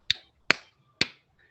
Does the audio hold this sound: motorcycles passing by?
no